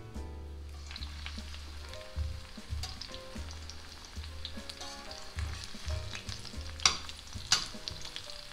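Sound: shallots frying in a pan

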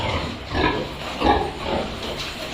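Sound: piglets grunting

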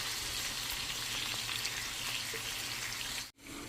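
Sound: onion with ginger garlic paste frying

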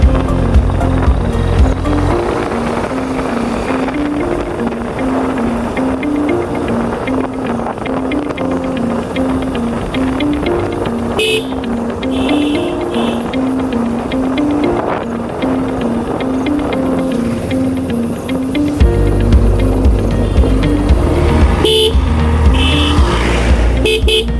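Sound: vehicle horns honking on mountain road to Thanchi

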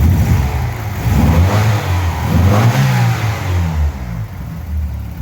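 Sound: car engine revving while warming up

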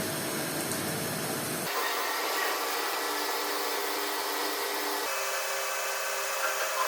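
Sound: drilling a metal part along a second axis

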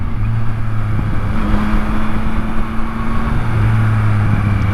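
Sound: Yamaha MT-09 three-cylinder motorcycle engine running

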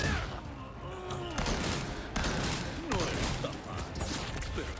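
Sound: shotgun fire in Resident Evil 4 Remake video game

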